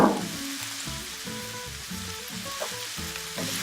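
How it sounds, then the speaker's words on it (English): Peppers and onions sizzle steadily in a hot greased pan, a dense close frying hiss with occasional stirring scrapes, no talking over it. "I'm going to start putting in some veggies. All right, peppers and onions."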